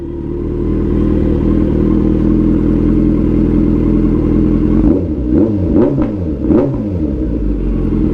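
A motorcycle engine idles with a steady rumble, then revs sharply several times in quick bursts, loud and close.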